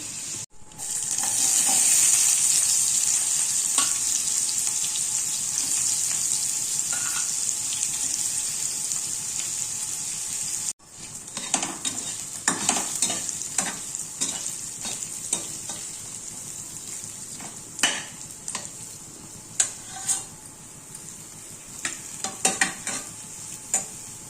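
Moong dal fries in hot oil with a tempering, a steady bright sizzle that carries on, broken after a short gap by scraping stirs and clinks of the spoon against the pan.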